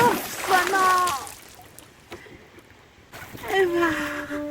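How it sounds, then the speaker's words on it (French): Something tumbles into a river with a loud splash, and water sloshes and splatters around it. Tonal, voice-like sounds rise in bursts before and after the splash. "bascule dans le fond de la rivière dans un grand plouf sonore"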